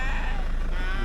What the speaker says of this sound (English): So the sheep are getting big.